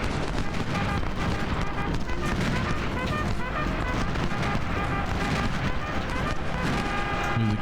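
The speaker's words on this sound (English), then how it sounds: "Next time I see the enemy fire its volley." Continuous rumbling musket fire and booms from a Civil War battle game at Fredericksburg, a dense, loud wash of crackling volleys with no clear gaps, mixed with distant battle noise.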